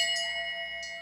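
A bell rings out for the final lap of a short track speed skating race, with repeated bright clangs whose metallic tones ring on steadily in a large indoor rink.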